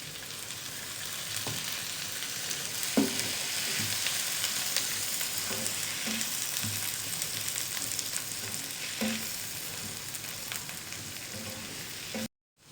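Roughly cut tomatoes sizzling and frying in a pan as the base for butter chicken, a steady close hiss with occasional stirring knocks and clinks, ending abruptly.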